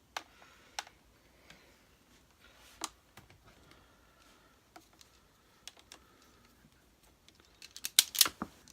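Wire cutters or scissors snip through the power cord during a Hoover Junior U1012 vacuum cleaner refurbishment, giving sparse sharp clicks and a louder cluster of cuts near the end, close up and quiet.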